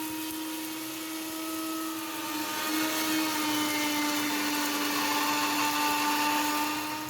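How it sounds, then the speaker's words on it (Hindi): An electric grinder whirs while grinding spices for matar pulao, a steady motor drone that rises slightly in pitch and loudness partway through and holds to the end, close and continuous. "इधर मसाले को पीसने लगे हैं"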